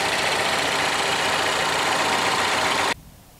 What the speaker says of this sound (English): located under the hood, you have a 2-liter i4 EcoBoost engine